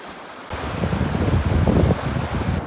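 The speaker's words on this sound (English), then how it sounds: "Where these two meet, just over here, is a pretty powerful water. The water's moving strong" A fast, powerful creek runs high in May with a strong, broad rushing roar. The water sound swells in loudly partway through and stays heavy and continuous, with no talk.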